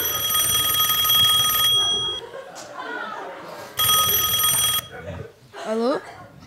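Electronic telephone ring sound effect played during a comic hypnosis stage show, two loud bursts of shrill ringing separated by a pause, with people talking and laughing in between.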